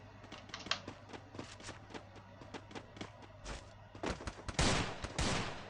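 Gunfire in the Free Fire video game, a quick run of sharp shots at moderate level followed by a denser burst of firing toward the end.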